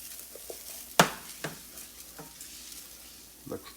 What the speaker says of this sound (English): That's what I'm looking for, the little cracking.